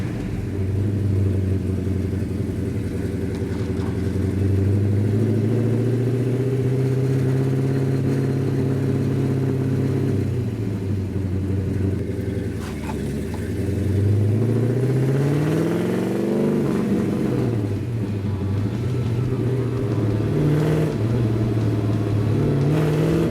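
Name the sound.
1967 Hemi GTX convertible accelerating on a test drive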